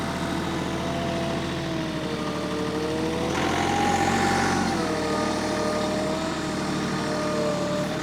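A tractor engine in four-wheel drive runs steadily while moving topsoil around a yard, a loud continuous diesel drone with a slight swell in load midway, no voices over it.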